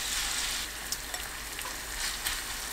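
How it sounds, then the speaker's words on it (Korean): Batter sizzling and frying steadily in oil on a pan over low heat for a soybean-sprout side dish, a continuous close crackle with a few brief louder pops, no voices. "팬에 식용유 두르고 예열되면 약불로 바꿔 반죽을 올립니다."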